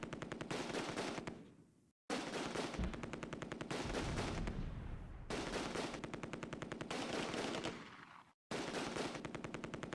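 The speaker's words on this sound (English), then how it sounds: "We're under heavy fire." Rapid, dense machine-gun bursts in the video game Close Combat: A Bridge Too Far, set at Nijmegen Bridge during Operation Market Garden, loud and sustained, with a few sudden brief cutoffs between bursts.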